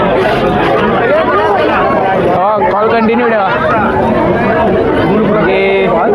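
Dense crowd chatter fills a packed temple darshan, a steady loud hubbub of many overlapping voices with a nearby person speaking over it.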